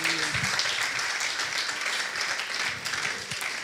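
A church congregation applauding in praise of the Lord at a worship brunch: a dense, steady roomful of clapping that fades slightly toward the end, with murmured voices beneath.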